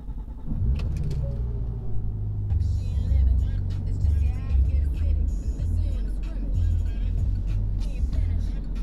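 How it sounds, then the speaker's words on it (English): A car engine cranks and catches about half a second in, then settles into a steady, close, low idle rumble. A voice talks over it. "Going to start the car up now."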